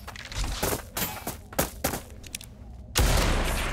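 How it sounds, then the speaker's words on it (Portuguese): Gunfire in the video game Blood West, a ragged series of sharp shots and thuds at uneven intervals over about four seconds, with a heavier blast near the end, no talk. "Eu fui trocar tiro com o caipira ali."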